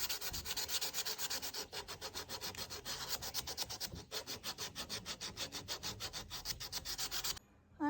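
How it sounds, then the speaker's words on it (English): Rough hand sanding of an old wooden step stool makes rapid, rhythmic back-and-forth rasping strokes, close and steady, with no talking. "I'm halfway with the rough sanding and I am very dusty."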